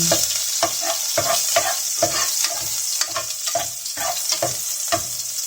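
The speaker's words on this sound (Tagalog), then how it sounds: "Nilagay muna natin yung bawang." Garlic sizzles in a hot pan as the first step of pork ribs with mung beans, with a steady close fry and a regular rhythm of spatula stirs scraping through it, no voices.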